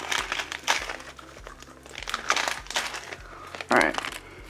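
A plastic bag of biological filter media for a Fluval AquaClear aquarium filter is torn open and handled, giving repeated crinkling and crackling bursts, some loud and close. A voice speaks in the background.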